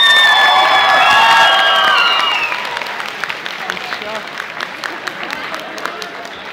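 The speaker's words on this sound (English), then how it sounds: "Give another round of applause." A crowd at a cosplay convention stage event applauds and cheers with whoops. The clapping swells, then thins to scattered claps.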